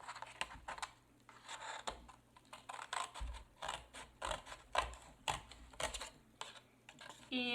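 Scissors cutting paper off at the fold for a printmaking project, a close, quiet series of uneven snips and crisp paper rustles in irregular bursts, with no talk over them.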